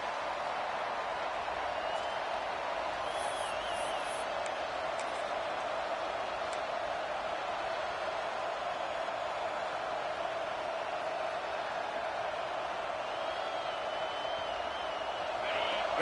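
Stadium crowd noise in a college football video game, a steady broad roar sustained throughout with faint whoops, heard beneath game commentary.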